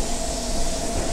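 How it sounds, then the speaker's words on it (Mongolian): A metro train arrives at a station, a loud steady rumble and roar with a faint sustained tonal whine, filling the short moment without speech. "За метро маань ирчлээ."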